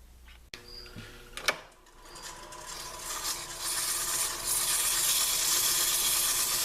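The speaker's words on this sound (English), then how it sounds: "Now I'm going to put it back on the lathe and sand it again." A wooden bowl being repaired is sanded on a lathe. After a click and some handling knocks, a whirring hum builds steadily and then holds as a loud, continuous spinning drone with a sanding hiss.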